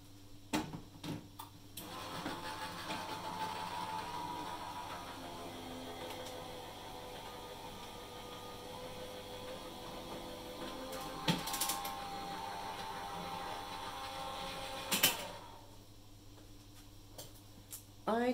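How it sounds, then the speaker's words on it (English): A die cutting machine runs paper through with a steady close mechanical whir and faint ratcheting, bracketed by a few clicks at the start and a sharper clack near the end. "So I'm going to just run this through my die cutting machine."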